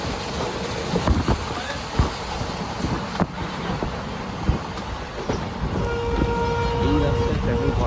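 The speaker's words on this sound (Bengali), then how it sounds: "এখন দেখুন আমরা একদম পরে রাস্তা একদম ট্রেনের সাথে সাথে চলছি।" The Dooars Queen train rolling along beside a road, a steady rumble of wheels and carriages with irregular clanks and knocks, growing slightly louder toward the end.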